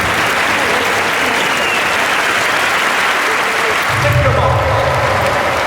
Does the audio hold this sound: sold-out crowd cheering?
yes